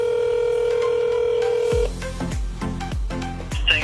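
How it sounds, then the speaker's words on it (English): A telephone call to a repair shop: a steady tone, then a run of repeated electronic ringback pulses, close and clear. "So we're gonna call this place right now"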